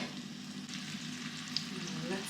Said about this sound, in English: now we are going to add apple slices and coat it really well with that butter